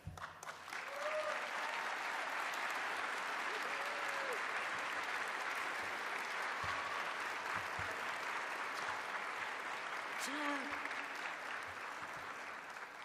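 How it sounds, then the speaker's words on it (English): Steady, sustained audience applause at the Year Up Class 27 graduation, a dense wash of many hands clapping for the Rhode Island team for over twelve seconds, with a few faint voices rising above it. "you can join me in a round of applause for recognizing them"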